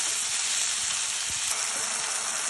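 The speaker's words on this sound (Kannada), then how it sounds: "ಒಂದು 3 ಟೊಮೆಟೊ ಹಾಕ್ಕೊಂಡಿದ್ದೀನಿ. ಸಾಫ್ಟ್ ಆಗೋವರೆಗೂ ಫ್ರೈ ಮಾಡ್ಕೊಳ್ಳೋಣ" Tomatoes fry with ginger and garlic in a pan for kadai paneer masala, a steady close hiss of sizzling oil with a few soft stirring scrapes, no talking.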